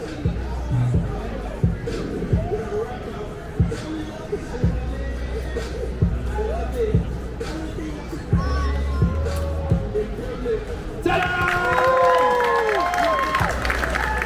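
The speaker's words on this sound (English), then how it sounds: "Thank you, round of applause." Street show crowd at Rundle Mall in Adelaide during the fringe festival, clapping and cheering in a lively open-air mix, with a performer's voice and crowd chatter woven through and a louder burst of cheering near the end.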